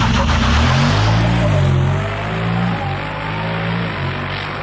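A Honda Pioneer UTV with a new Silber turbo tune drives along, its engine droning loud and steady with rising and falling pitch as it accelerates and shifts, close and continuous throughout.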